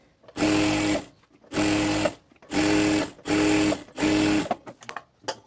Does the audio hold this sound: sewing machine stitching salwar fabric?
yes